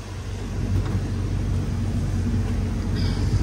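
A Jeep Wrangler Rubicon engine idles steadily, a low continuous rumble close by with no talking over it.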